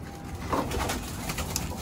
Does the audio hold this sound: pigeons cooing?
yes